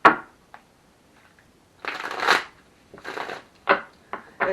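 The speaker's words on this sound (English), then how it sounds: "So, a really good shuffle." A deck of tarot cards is shuffled in several separate bursts of papery riffling and brushing, close up and moderately loud, with short quiet pauses between and no talking.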